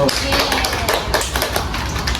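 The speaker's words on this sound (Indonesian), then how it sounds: "Jadi tepuk tangan untuk Mbak Mei dan Mbak Okta." Audience applause after a role-play presentation on hallucinations, a dense, steady patter of many hands clapping close by for a couple of seconds with a voice faintly underneath.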